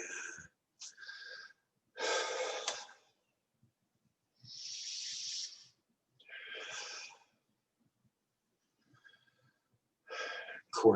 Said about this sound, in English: if we're really releasing, then we can breathe out through the mouth